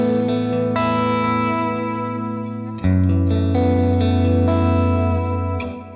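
Electric guitar through a loud Valeton GP5 multi-effects preset, sustained distorted chords with chorus and echo, ringing out and changing once midway, with no voices.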